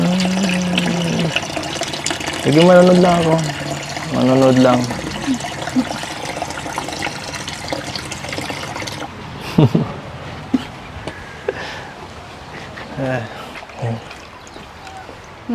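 Water poured for a guest in a home, a trickling splash running under conversation for several seconds before quieter movement and occasional thumps, with people talking throughout.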